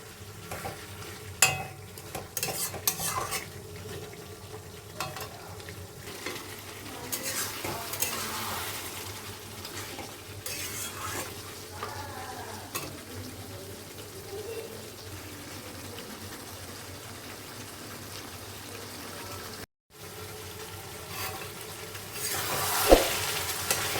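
Mutton curry being stirred and fried in a pan, Bengali style, with a steady sizzle under scraping spoon strokes and occasional clinks against the pan, no talking.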